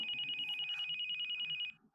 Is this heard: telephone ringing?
yes